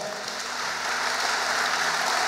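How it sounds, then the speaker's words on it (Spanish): Dense, steady applause from a church congregation, a continuous hiss of many hands clapping that swells slightly toward the end. "denle un aplauso fuerte al Rey"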